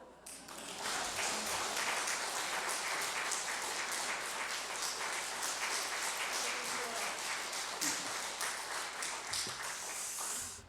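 A church congregation claps together in sustained, dense applause that fills the room, building after a short start and continuing evenly before fading out.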